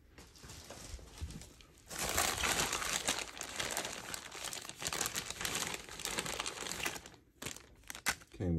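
Crinkling plastic bag from tactical holster packaging, close and continuous rustling and crumpling that grows busier midway, then breaks into a few sparse crackles near the end.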